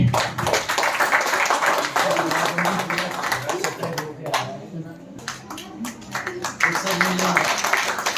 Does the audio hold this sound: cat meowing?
no